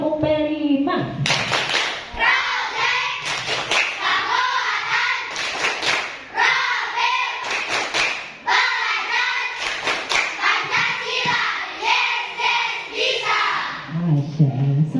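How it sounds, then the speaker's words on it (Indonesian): A classroom of children performs the tepuk pelima rhythmic clapping game, sharp clustered hand claps in a patterned beat under loud group chanting, with a teacher's voice at the start. "Ibu ingin anak-anak tepuk pelima dulu."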